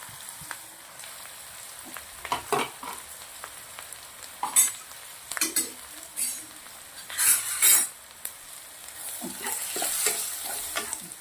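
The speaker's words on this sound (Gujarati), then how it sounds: "તેલના અંદર ડુંગળી મરચાં લસણ આદું બધું શેકી દેવાનું છે" Onion, chili, garlic and ginger fry in oil for a chaat, a close sizzle under repeated loud utensil scrapes and clinks against the pan, with a steady hiss swelling near the end.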